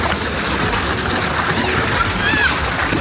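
Children splash and play in rainwater that has flooded a residential housing society, a steady wash of sloshing and splattering water with a voice rising briefly, heard up close and continuous.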